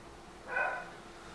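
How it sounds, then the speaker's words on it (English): A dog named Watson lets out a single short bark, close by but fairly soft, standing out briefly against a quiet room. "He's always barking."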